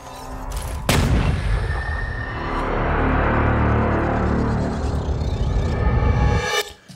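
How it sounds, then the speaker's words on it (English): A reverse whoosh built from the Krotos Studio feedback rush preset: a sharp hit, then a long swelling rumbling rush that builds steadily and cuts off abruptly at the end, loud and alone. "I would like one more effect here using the feedback rush preset. I'm going to do a kind of reverse effect to lead into the other shot."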